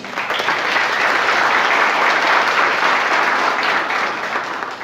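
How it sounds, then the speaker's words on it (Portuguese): A church congregation applauds, a dense and loud wash of many hands clapping together steadily for several seconds before easing off slightly at the end. "Aplaudir a Deus por isso?"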